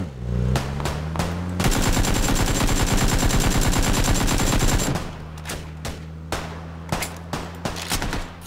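Rapid automatic gunfire in a video game rattles in a dense, loud burst of several seconds, bracketed by scattered single shots and shorter volleys.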